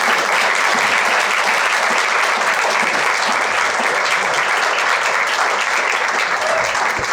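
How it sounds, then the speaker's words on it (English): Audience at a history center applauding Bill Landry as he is introduced to speak; sustained, thick clapping from many hands runs evenly and fairly loud without a break. "Let's give him a big round of applause."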